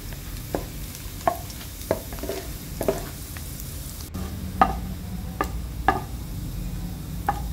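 Chilli and garlic fry in oil in a wok, a steady soft sizzle punctuated by regular clacks of a spatula stirring about every half second, close by and without talk.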